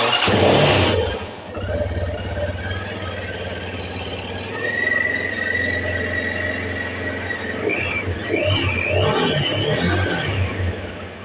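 A Viper V250L motorcycle with a wiring and charging-relay fault runs loudly and steadily, its engine rumble continuous and close throughout, rising slightly in places with faint whining tones above.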